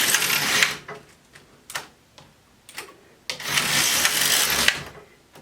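An LK150 knitting machine carriage is pushed across the needle bed in two long swishing passes, separated by a stretch of light ticks and clicks as needles are set by hand, close and fairly loud.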